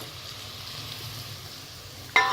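Chopped onions fry in a pan for a mixed vegetable curry, giving a steady soft sizzle, then a sharp clink of a utensil at the very end.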